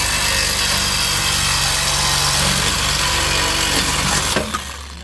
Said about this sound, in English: we got the Sawzall set up. We're going to start cutting this off right about here